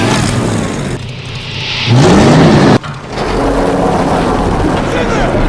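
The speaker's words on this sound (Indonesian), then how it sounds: "ternyata mobil malah hidup dengan sendirinya" A car engine starts and revs on its own as a sound effect, a loud, rough motor roar with a rising whine and a brief cut before it drones on, mixed with other noise.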